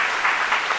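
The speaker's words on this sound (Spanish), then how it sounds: "Aplausos, por favor" A short stretch of applause from an audience welcoming a guest onto a sponsored Christian podcast, with steady, dense clapping at moderate volume.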